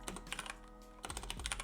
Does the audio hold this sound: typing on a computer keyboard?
yes